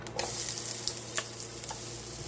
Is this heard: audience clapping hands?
no